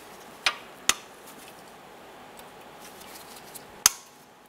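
Sharp metallic taps on a locking tab of an outer tie rod on a 2007-2012 Nissan Versa, three distinct close strikes spaced apart over a quiet background.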